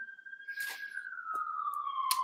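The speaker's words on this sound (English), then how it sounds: "There is a siren in the background." A siren wails in the background, one long steady tone slowly dropping in pitch, moderately loud, with a few brief clicks and noises over it.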